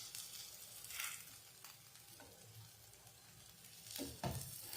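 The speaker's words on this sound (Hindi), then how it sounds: "और 1 मिनट हम इनको दूसरी साइड से फ्राई करेंगे।" Bread slices fry on their second side in a pan, giving a quiet, soft sizzle with a few brief swells and light scrapes, and no one speaking.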